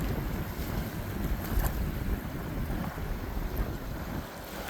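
Cold wind blows across a Florida beach with snow and ice on the sand, a steady rushing gust that buffets the microphone, with faint surf beneath and no one speaking.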